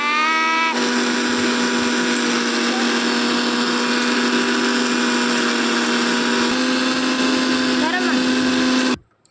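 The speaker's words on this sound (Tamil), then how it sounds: "இங்கே அம்மா பொடி அரைக்காங்க." A mixer grinder whirs steadily as it grinds lentil spice powder (paruppu podi) with dried chilies, loud and close, with a sharp start and a sudden stop near the end.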